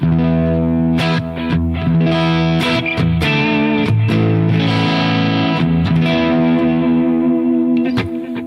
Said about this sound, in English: really warm, bluesy, edgy, a little bit of a breakup kind of a tone